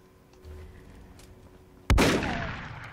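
A Warhammer 40K bolter fires in a Fallout 4 mod: one loud, sharp blast with a long rumbling tail follows a quiet stretch of low game ambience.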